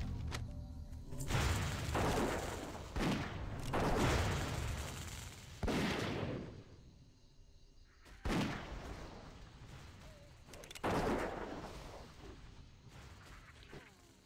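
Gunfire aimed at the player in World of Warcraft Classic, several separate booming shots spaced a couple of seconds apart, each with a sharp attack and a long fading tail, fairly faint and with no talk over them.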